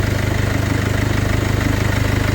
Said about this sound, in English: you can definitely hear it sucking air